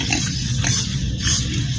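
Pigs at their water on a farm grunt and oink repeatedly close by, a rough continuous chorus with no talking.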